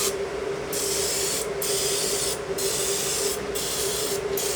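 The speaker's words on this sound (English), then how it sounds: "I'm going to just give them all a little spritz." Olive oil is misted onto chicken wings in a steady hissing spray, broken by several brief pauses between bursts, close and fairly loud with no voices.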